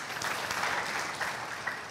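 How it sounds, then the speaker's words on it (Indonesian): A church congregation claps together in a steady burst of applause lasting a couple of seconds, fairly distant and even. "Tepuk tangan buat Tuhan."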